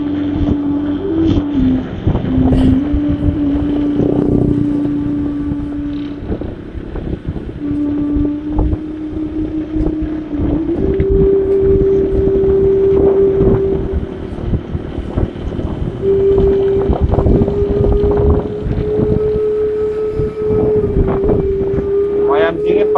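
Wind buffeting a microphone while riding a motorbike on a cool morning, a loud continuous rumble with a steady engine drone underneath throughout.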